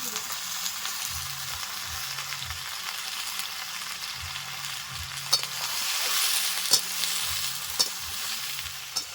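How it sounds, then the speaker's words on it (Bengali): Taro stolons being fried and stirred in a pan, a steady sizzle with intermittent scraping stirs and clinks, low rhythmic background hum, no talk. "লতিগুলো দেওয়ার পরে নেড়ে চেড়ে নিয়েছি"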